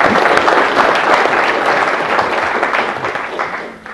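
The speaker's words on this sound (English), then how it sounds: "I would hope that you would all show your appreciation to what Dr. Wood has done over the past years with a round of applause" Lecture audience applauding at a physics talk, steady dense clapping filling the room for several seconds before tapering off at the end, with no voices over it.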